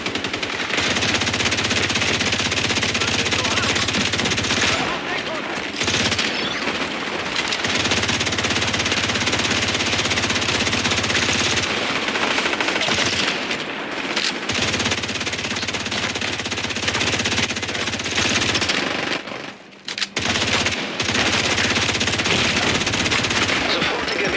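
Video game machine gun fire roars in dense, continuous bursts for over twenty seconds, loud and close, broken only by a few brief pauses for reloading, with no voices.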